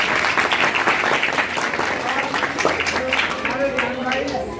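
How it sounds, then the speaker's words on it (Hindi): Steady, dense applause from an audience at a doctor's birthday program, loud and continuous clapping with a little crowd noise mixed in. "जोड़ा ताली"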